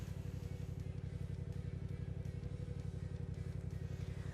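A motorcycle engine idles steadily with a low, even, pulsing thrum, close and continuous with no talk, while electric heated riding gear runs on high.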